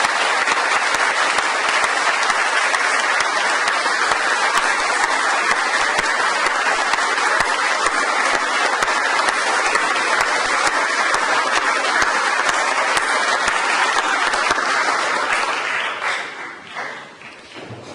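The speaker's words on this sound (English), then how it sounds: "accept a well-deserved round of" A graduation awards crowd applauds a furniture design and manufacture class, steady dense clapping that holds loud and even for about fifteen seconds before thinning out and fading at the end.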